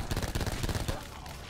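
AVR gun in Black Ops 4 Zombies firing in rapid bursts, loud, close and continuous for about a second before tailing off.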